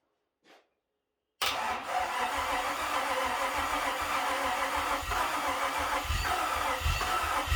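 A 1976 Toyota FJ40 Land Cruiser with a swapped 4.8L LS V8 cranks and fires up after a brief faint click, then settles into a loud, steady, close idle with a rough low rumble.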